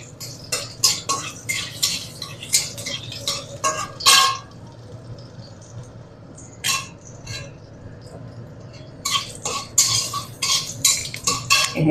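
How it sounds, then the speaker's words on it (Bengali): Prawns being stirred in a wok with a metal utensil: repeated close scraping clinks and clatters in irregular bursts over a steady low background, with a brief pause midway. "চিংড়ি মাছটা ঢেলে দিলাম লাল লাল হবে"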